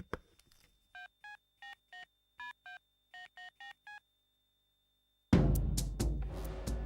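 Touch-tone telephone keypad dialing a number: about a dozen short, evenly spaced beeps in quick bursts, clear and isolated in a quiet room, followed by a sudden burst of loud noise.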